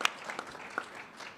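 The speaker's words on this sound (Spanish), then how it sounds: "un aplauso a Santiago Álvarez Campa" An audience applauds Santiago Álvarez Campa at a book presentation, faint and sparse, with a few scattered claps rising above a quiet room.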